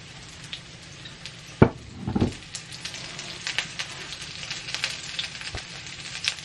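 Chickpea patties fry in olive oil with a steady crackling sizzle, spiked by a few louder spits and pops, with no talk over it.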